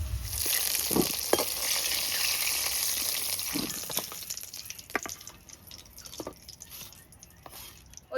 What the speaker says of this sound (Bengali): গরম তেলের মধ্যে আলু দিয়ে ভেজে নেব